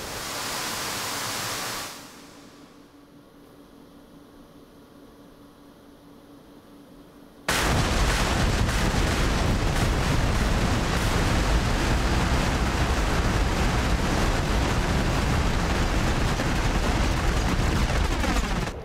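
Rounds striking a target in DCS F-15E: a dense, roaring wall of blasts and gunfire bursts in sharply after a quieter cockpit hum and keeps pounding, loud and unbroken.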